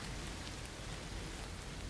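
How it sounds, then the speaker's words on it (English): Gentle rain falls steadily on a quiet countryside path, a soft, even hiss of drops with no distinct patter or thunder, faint and continuous throughout. "There is a gentle sort of rain falling, the kind that never truly seems to arrive all at once."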